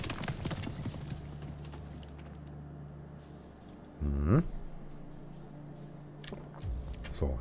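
Horse hooves clip-clopping in the video game Above Snakes, a steady rhythmic trot under a constant low musical drone, with a brief whinny-like rise midway.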